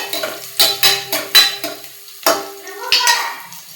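Onion and garlic frying in a pan, stirred with a utensil in a series of sharp, close scraping strokes over a light sizzle, with no talking.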